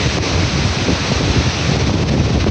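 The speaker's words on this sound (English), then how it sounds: "Wow, that river is so loud." The Rio Reventazon roars past as a loud, continuous rushing of whitewater, broad and steady with no voices.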